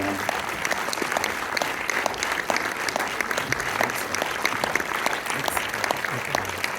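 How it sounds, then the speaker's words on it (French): Audience applauding a film director at a screening event, a steady wash of dense clapping that holds throughout at moderate loudness, with no one speaking over it. "Le réalisateur du film, Yann Samuel, que je vous demande d'applaudir très très fort."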